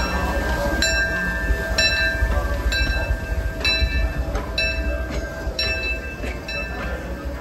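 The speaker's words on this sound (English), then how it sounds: "Beautiful day for a train ride." Amusement park train ride: rhythmic metallic clacking of wheels over rail joints repeating about once a second, with a steady rumbling roll and high ringing tones, loud and close.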